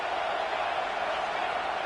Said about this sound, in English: The crowd is roaring, trying to help this defense on 4th down.